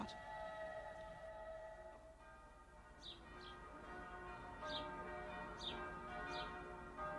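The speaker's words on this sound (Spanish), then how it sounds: "A 360 metros de aquí resuenan las campanas del Santo Sepulcro" Church bells of the Holy Sepulchre in Jerusalem ring in a steady, sustained wash of tones heard from a distance, with small birds chirping briefly over the top.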